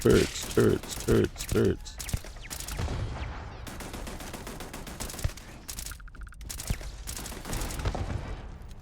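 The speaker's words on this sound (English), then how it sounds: "What is shooting at me? Oh, turrets." Enemy turrets fire on the player in Starfield, with a rapid burst of close, loud gunfire followed by further scattered shots and sci-fi combat noise, while a voice talks over the action.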